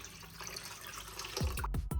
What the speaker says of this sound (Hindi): अब इसके अंदर हम शामिल कर देंगे थोड़ा सा और पानी।